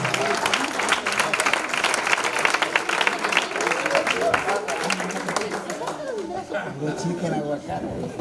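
A church congregation claps and applauds in praise during a sermon, dense steady clapping filling the space with voices and chatter mixed in throughout.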